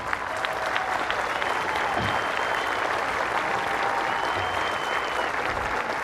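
Steady, sustained applause from a crowd at a Hall of Fame address honoring Reggie Jackson's father, an even wash of clapping at moderate level throughout.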